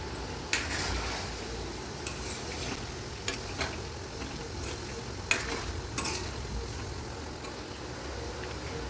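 Chicken frying in a pan being stirred with a utensil, a steady sizzle beneath occasional scraping clinks of metal against the pan at irregular intervals.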